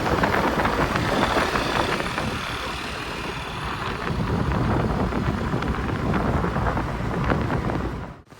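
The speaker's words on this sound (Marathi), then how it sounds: "पाऊसच जोरात आला" Heavy monsoon rain pours down outdoors on a morning walk to a train station, a loud, steady broadband wash with a deep rumbling low end that holds for about eight seconds before cutting off abruptly.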